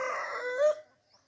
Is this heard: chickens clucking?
yes